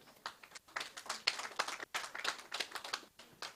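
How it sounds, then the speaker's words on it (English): Sparse, fairly faint clapping from a small audience at a book launch and birthday event, uneven individual claps in a short, scattered round. "Round of applause for him,"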